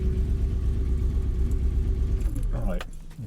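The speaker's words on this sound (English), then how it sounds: "Let's turn the engine off" A running Triumph Stag engine idles with a steady mid-pitched drone and then winds down as it is switched off near the end, leaving a few clicks and a faint hum; someone talks over it.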